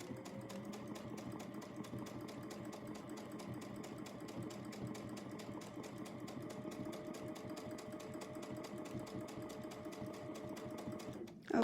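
A sewing machine doing free-motion quilting on a quilt runs in a steady, fast, close whir of stitches for several seconds, then stops abruptly with a soft clunk, with no talking.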